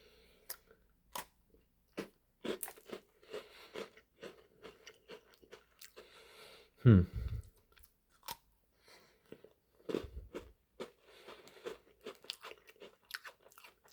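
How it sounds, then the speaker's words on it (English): Close crisp crunches and bites into a Maple Creme Oreo cookie, followed by chewing, with a few loud snaps among scattered small crackles and quiet gaps, and nobody talking. "let's dig into this deliciousness of an Oreo"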